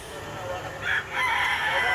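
A rooster crows at a chicken expo in Tabunok, Talisay, Cebu, a single loud call rising over a busy background murmur of the crowd.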